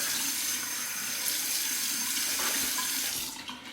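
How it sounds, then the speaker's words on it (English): Water runs steadily from a bathroom sink tap and splashes as it is scooped onto the face before shaving, a loud continuous gush that tapers off at the end. "Splash some water on."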